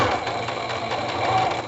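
A sewing machine topstitches a bias binding cut from the same fabric, running in one steady, loud, continuous mechanical whir up close.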